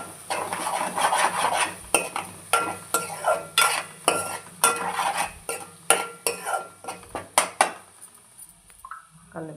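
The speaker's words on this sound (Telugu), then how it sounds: "ఇప్పుడు కొద్దిసేపు అయినాక ఎగ్ మొత్తాన్ని ఇలా కలిపేసుకోవాలి." Egg being stirred and scraped in a pan for egg Maggi, a steady run of sharp utensil strokes against metal over a faint sizzle, close and fairly loud, with no talking.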